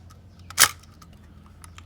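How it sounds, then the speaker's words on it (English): Shutter of a Zenit EM Russian M42 film SLR camera fired at 1/500: one sharp, loud, close mechanical click, with faint handling ticks around it. "Now I'm gonna show you guys the shutter itself."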